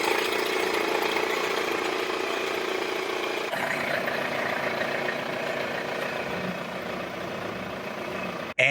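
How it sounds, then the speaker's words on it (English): A Toyota 5S-FE four-cylinder engine runs after an oil change, a steady close idle hum that shifts in tone partway through before cutting off abruptly. "rev up your engine!"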